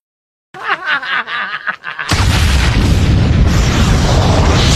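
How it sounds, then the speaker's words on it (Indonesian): An explosion from a film scene where leaking nitro liquid ignites in sunlight: after a short burst of muffled, choppy sounds, a loud, sustained roaring blast rumbles on without letting up. "Mereka berdua pun mati terkena ledakan."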